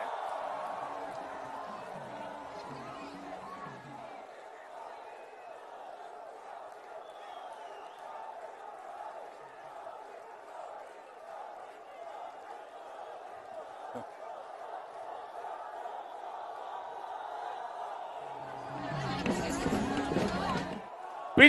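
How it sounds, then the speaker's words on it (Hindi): A crowd at a politician's rally in Assam breaks into applause and cheering: a brief, loud, dense burst near the end that follows a long stretch of someone speaking to the audience. "आज तालियां गूंज रही हैं,"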